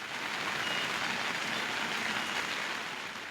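Heavy, continuous rain pours down in a dense, even roar of countless drops that holds steady throughout, with no voices.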